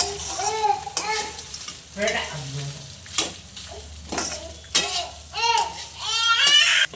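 Cooked rice being tipped into a pan and stirred for curry leaf rice, a series of scraping, shuffling strokes with faint sizzle, close and fairly loud, alone without talk.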